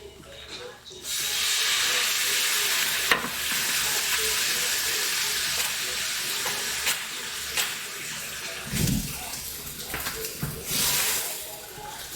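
A steak pan sizzles loudly as it is deglazed over turned-up heat, with a continuous hissing rush, scraping stirs and a few thumps, while a person talks now and then.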